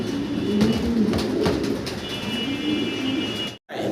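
Large black Lahori pigeons coo in a pigeon house, soft low throaty coos repeating close by with a few brief clicks and a faint high electrical whine, ending in a sudden short drop to silence.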